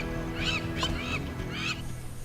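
A wild duck on the water gives three loud, nasal honking calls in quick succession, close and clear with no talk.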